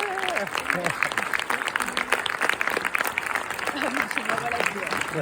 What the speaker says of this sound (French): Vous pouvez également applaudir Mamari Diarra